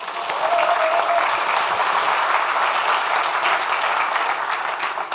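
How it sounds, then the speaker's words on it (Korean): Sustained applause from an audience filling a bank auditorium at a political forum, steady dense clapping that holds at full level throughout without talk over it. "박수 한번."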